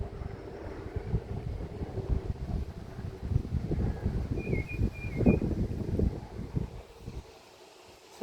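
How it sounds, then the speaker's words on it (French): Outdoor wind buffeting a microphone in gusty, uneven rumbles for about seven seconds, easing toward the end, with no talking. "Ça va pas le faire le vent."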